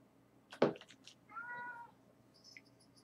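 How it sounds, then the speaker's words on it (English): A house cat gives a loud sharp meow followed by a softer drawn-out meow, with faint background sounds and no one speaking over it. "The cat is going crazy right now."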